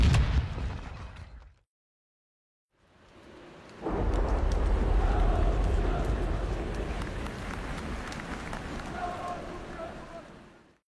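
Grenade explosion in a Second World War setting: a sharp blast that fades into silence, then a long, heavy rumbling roar that stays loud before slowly easing.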